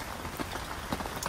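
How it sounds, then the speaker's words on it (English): Rain patters steadily outdoors beside a carp fishing lake in winter, with scattered close drops tapping over a soft, constant hiss. "I'm out in the rain."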